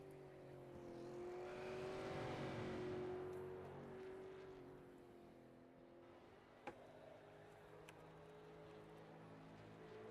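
A race car engine drones on a victory lap around the Southern National oval in a racing video game, a steady engine tone that swells and fades, with a brief sharp click partway through.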